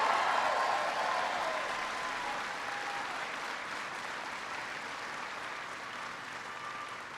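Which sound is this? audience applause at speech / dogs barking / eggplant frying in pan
audience applause at speech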